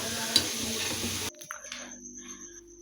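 Potato french fries frying in hot oil, a dense bubbling sizzle that drops abruptly to a quieter crackle, with a brief spoon scrape.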